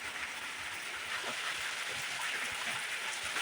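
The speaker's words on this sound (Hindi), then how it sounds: "इस वक्त तेज़ी से जो है बारिश हो रही है" Heavy rain pours steadily during a sudden downpour at a village wedding, where the canopy has collapsed. The dense, even hiss stays loud and unbroken throughout, with no voices.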